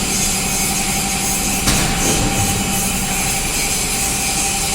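A blade sharpener for a drum wood chipper runs with a loud, steady grinding whine and machine hum, continuous and close, with a brief scrape partway through and no speech.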